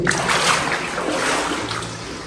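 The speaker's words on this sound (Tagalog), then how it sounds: "Lumusong na kami sa tubig." Water splashes and sloshes continuously as someone wades into it at a cave, a close, rushing churn with no pauses.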